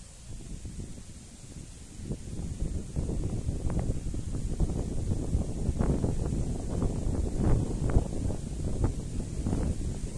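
Wind blows outdoors at a church site in Aborlan and Narra, Palawan, buffeting the microphone with a low, uneven rumble and gusty rustling throughout, fairly faint, with no talking.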